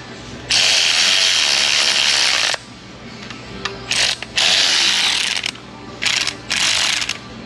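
A ratchet runs down the water pump bolts on a 1995 Jeep Wrangler 4.0, close and loud in several fast clicking bursts separated by short pauses.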